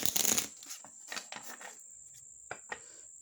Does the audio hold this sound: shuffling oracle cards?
yes